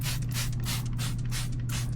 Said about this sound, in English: So I'm gonna spray down the back wheel while I clean the front wheel.